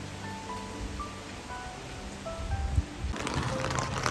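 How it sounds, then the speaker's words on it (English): Light rain falling outdoors on a city nature trail, a soft, steady wash of patter with faint birdsong above it, growing a little louder and fuller toward the end. "We're walking in the rain."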